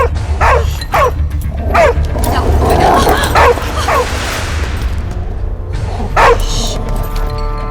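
A dog barks close by in several sharp, separate bursts with short pauses between them, over a steady background hum.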